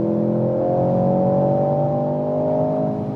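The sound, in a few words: sporty car engine sound with exhaust pops when lifting throttle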